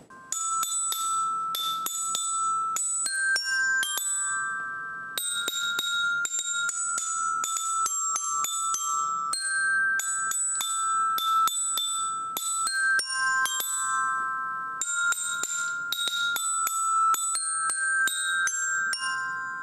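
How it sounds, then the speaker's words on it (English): A bright melody rings out on bells, struck notes following each other in a steady rhythm, clear and close with a metallic shimmer. "play the melody for you guys to hear it on the bells"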